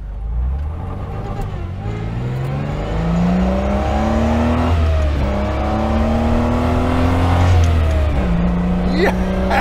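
An Austin Healey 3000 at full throttle with the top down, its engine revving hard and climbing through the gears with rising pitch, loud and close over steady wind noise.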